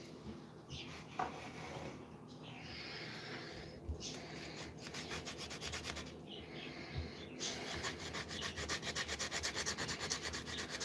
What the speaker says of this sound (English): where's my sanding stick?